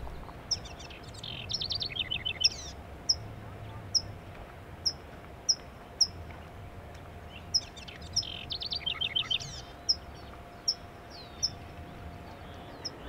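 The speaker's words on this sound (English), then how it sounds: "Looks like our little house wren is back." A house wren sings outdoors with short, bright, rapid chirps and trills, repeated at regular intervals. The calls are fairly faint over a quiet background with a faint steady hum.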